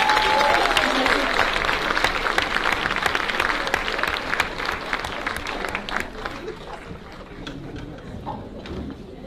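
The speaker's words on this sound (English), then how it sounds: "So if we can give the sister a big round of applause." Audience applause at a 2020 talk event on Black women's health, a steady dense wash of many hands clapping that slowly thins toward the end, with faint voices mixed in.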